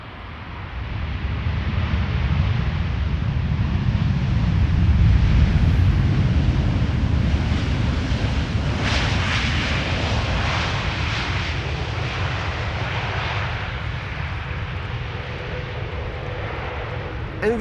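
A jet airliner landing at Amsterdam Schiphol Airport roars loudly and steadily in a sustained broadband rumble, swelling and holding before easing off slightly, with some wind buffeting the microphone.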